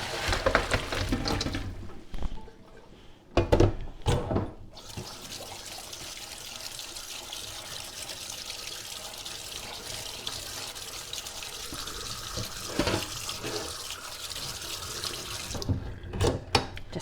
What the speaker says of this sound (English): We are going to drain all the water, rinse them with cold water